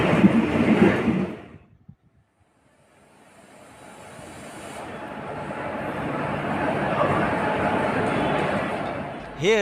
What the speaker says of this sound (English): Here the Coromandel Express has arrived the Balasore railway station.